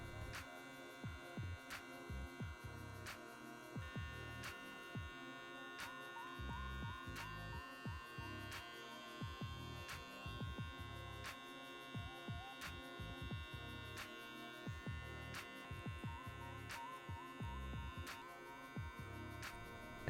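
Electric hair clippers hum steadily for a low fade haircut, running continuously with the lever closed, with faint clicks and brief strokes against hair and no talking.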